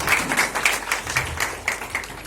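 Applause from an audience at a Congress party welcome event in Jabalpur for leader Annu Bhaiya, steady and moderately loud with fairly even clapping throughout, a faint voice underneath.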